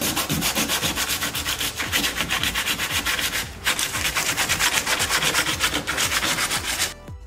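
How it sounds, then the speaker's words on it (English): A cracked car bumper is sanded by hand in steady back-and-forth strokes, a loud, close, continuous abrasive rubbing with a regular rhythm and a brief pause partway through. "time to sand it by hand now"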